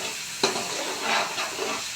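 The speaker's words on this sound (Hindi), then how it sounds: "अब इसको ना भून लेंगे अच्छी तरह इसको।" Onion masala fries in a pan with a steady, hissing sizzle, and a spoon stirring through it adds a scrape or two.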